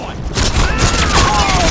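A rocket-propelled grenade launches amid heavy gunfire in Call of Duty: Modern Warfare 2, a dense, continuous battle din of rapid shots and booms, with a whooshing streak cutting through near the middle.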